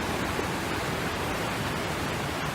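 The Niagara River rushing toward the American Falls, a dense, steady roar of fast-moving water, loud and close, unbroken throughout with no voices.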